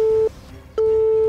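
A telephone busy signal heard when calling: two loud, steady electronic tones separated by a short silent gap, clear and alone.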